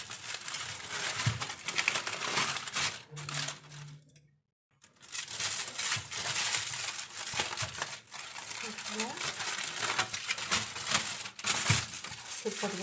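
Plastic freezer-bag wrapping crinkles and rustles steadily as it is peeled off a no-bake Swiss roll, close and continuous with one brief pause midway and occasional faint clicks.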